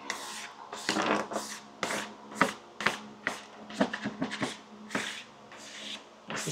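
A plastic key card scrapes hot glue residue off a part of a DIY RC bush plane, giving a run of short, irregular rasping strokes up close with no talk.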